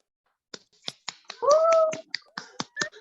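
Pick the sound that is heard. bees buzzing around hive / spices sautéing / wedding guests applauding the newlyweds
wedding guests applauding the newlyweds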